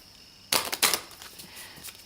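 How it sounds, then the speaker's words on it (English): A small deck of 30 oracle cards is riffle shuffled, giving a quick close burst of papery clicks and flutters that trail off into a few softer ticks. "let's give a little riffle"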